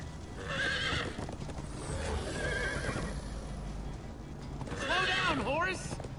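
A horse in the Minecraft Story Mode video game whinnies loudly twice amid hoofbeats, with game voices and background sound throughout.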